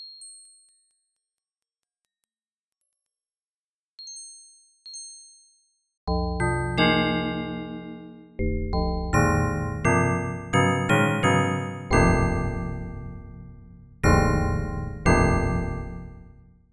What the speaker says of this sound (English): tune that up an octave, detune that as far as it can, and then listen to that.